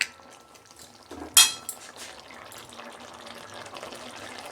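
Prawn and cauliflower curry with potatoes is poured out of a cooking pan, a soft wet slide with a sharp metallic clank of utensil against pan near the start, then quieter scraping.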